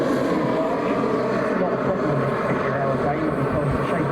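A CARF Models MiG-17 model jet flying at a display at Weston Park, a steady engine roar with someone talking over it throughout.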